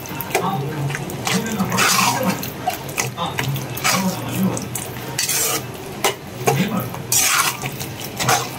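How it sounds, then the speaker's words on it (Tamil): Potato and tomato sabji stirred in a pan after a little water is added, with a utensil scraping and clinking against the metal in a steady, repeated rhythm under faint background voices. "கொஞ்சமாக தண்ணி ஊற்றுறேன்."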